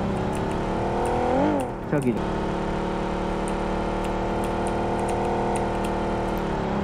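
A car engine in the PUBG video game drones steadily and loudly throughout, dipping briefly in pitch before settling back to a constant hum, with a voice talking over it.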